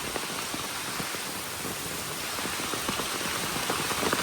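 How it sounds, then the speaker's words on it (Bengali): Heavy village downpour pours onto grass and standing water beside paddy fields, a dense, steady hiss with scattered close drops pattering throughout. "এই যে দেখেন ঝুম বৃষ্টি পড়তেছে একদম"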